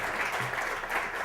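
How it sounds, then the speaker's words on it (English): A short burst of audience applause at a bar storytelling slam, steady clapping heard alone for about a second. "Real quick round of applause for Larry and Clarky behind the bar."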